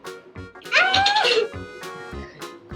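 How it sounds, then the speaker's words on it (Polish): A kitten gives one drawn-out, wavering meow near the middle, fairly close and clear, with scattered soft knocks and background noise before and after. "O, to kotek. Kotek jest."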